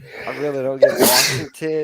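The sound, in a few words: sneeze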